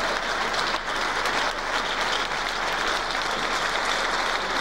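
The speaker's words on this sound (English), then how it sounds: "Listen to the applause." Sustained applause from a crowd after a wrestling bout, a dense, even clapping that fills the whole stretch.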